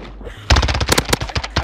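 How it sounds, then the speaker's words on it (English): Rapid gunfire in Modern Warfare's Search and Rescue mode: after a brief quiet start, a dense close burst of sharp shots fires in quick succession, loud and punchy, with no voices. "I killed him with my last bullet."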